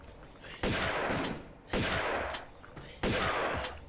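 Three heavy, booming shotgun blasts fired by Lara in Tomb Raider 2's Barkhang Monastery level, spaced about a second apart, each followed by a rumbling decay.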